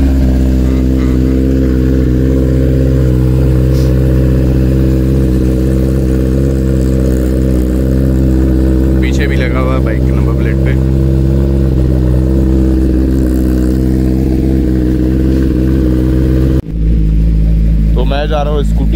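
A Kawasaki ZX-10R motorcycle engine runs at a steady low idle, loud and close, its strong low hum continuing without break for the whole stretch, while a person talks over it in places.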